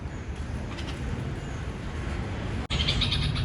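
Parent birds call from a rooftop terrace garden in the rainy season, faint chirps over a steady background hiss, with a brief break before a brighter burst of calls near the end.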